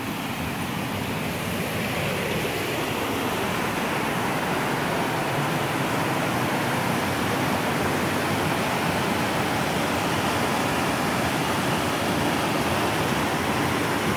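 A waterfall roars steadily on its own, a dense and constant wash of falling water with no breaks and no voices.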